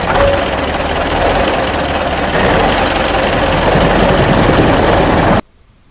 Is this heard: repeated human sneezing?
no